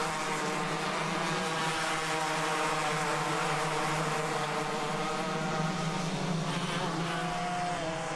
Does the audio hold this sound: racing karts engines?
yes